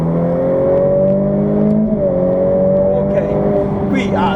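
Ferrari F8 Tributo on the Imola track, engine humming and revving from inside the cabin in a high gear, pitch rising, dipping at a shift and climbing again, with an instructor's voice over it.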